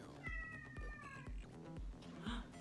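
A pet cat named Evie meows about five times in a steady series, each call short and close, with no talk over it.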